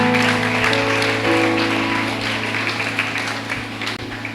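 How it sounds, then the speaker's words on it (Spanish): Audience applause for a group of young people at a church retreat, steady clapping from a crowd over a sustained musical hum, moderately loud and tapering off toward the end. "Un aplauso para esos muchachos que tienen 17"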